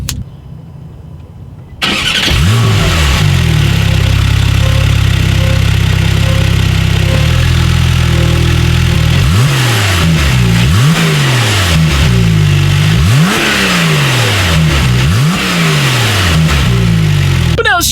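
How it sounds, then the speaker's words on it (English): A 2017 Porsche 911 Carrera with a brushed stainless steel exhaust fires up loud and close, settles into a steady idle, then gives a series of sharp revs that rise and fall back repeatedly. "Here is that awesome exhaust clip."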